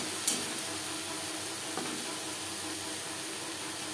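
A small amount of greens cooking in a pan over low to medium flame, a steady soft sizzle with a couple of brief scrapes from stirring.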